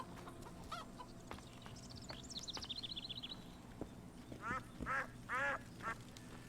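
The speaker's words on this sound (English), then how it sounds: "Silly ducks." Ducks quack in The Witcher 2 game world, a mix of short rapid quacks and longer nasal calls over a steady ambient bed, with several louder calls clustered near the end.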